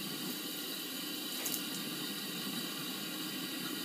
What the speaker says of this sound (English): Now you are going to fill it with warm water.